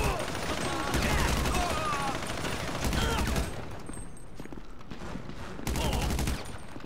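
Rapid bursts of automatic gunfire come from a shootout in Grand Theft Auto V, close and loud, in several volleys with short pauses between them. Game voices talk over the firing.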